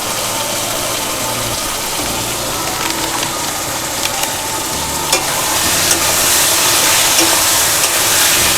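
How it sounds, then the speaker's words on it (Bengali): Spices, Kashmiri chilli powder and a fish-head cabbage ghonto mixture sautéing in a pan: loud continuous sizzle with scraping stir strokes, growing brighter and louder toward the end, close by and without talk. "আবার কষিয়ে নেব একটু।"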